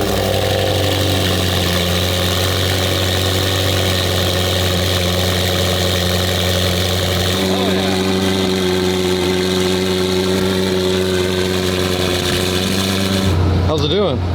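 A car engine idles steadily after a cold start, a continuous low hum with a shift in tone about halfway through, and a voice talks over it.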